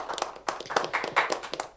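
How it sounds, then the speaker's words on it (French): Audience clapping for a competing team at a quiz contest, a brief patter of scattered hand claps with uneven rhythm, fairly quiet and close, no voices over it. "Et je voudrais que vous les applaudissiez."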